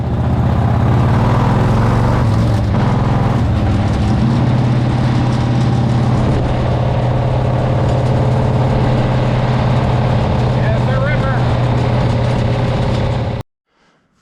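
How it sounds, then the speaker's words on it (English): Harley-Davidson golf cart fitted with a Sportster V-twin motor runs steadily at idle, a loud, continuous low rumble that holds for about thirteen seconds before cutting off abruptly. "Put a Sportster motor in a Harley golf cart. It's a real Harley with a real Harley motor."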